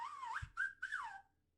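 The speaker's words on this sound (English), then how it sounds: "It starts off with whistling." A single whistled melody opens a recited poem about the Chilkoot Trail, rising and falling in three near, clear phrases with a brief gap, then fading out.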